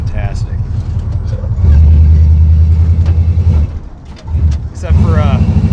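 The engine of the VRUCK, whose carburetor has a dead spot and whose fuel filters are clogged, idles with a loud, steady low rumble that dips briefly before picking back up, with a voice talking over it.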